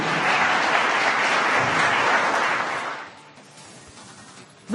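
Loud, dense applause from a crowd at a Tribal Day music festival in Bengaluru carries strongly for about three seconds, then quickly thins out and fades to scattered claps.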